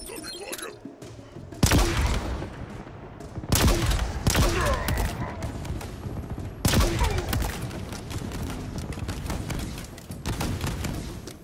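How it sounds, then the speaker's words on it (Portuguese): Gunfire from a ship in the Halo Infinite campaign comes in sharp bursts and booming impacts mixed with clattering debris and game effects. "Tem uma nave atirando em mim?"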